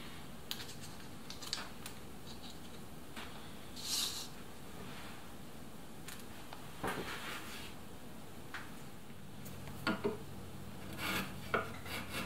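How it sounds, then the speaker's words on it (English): Small wooden kumiko pieces are bevelled by hand, with quiet, scattered scraping and rasping strokes and light knocks of wood spread across a soft background. "let me go ahead and bevel the rest of these"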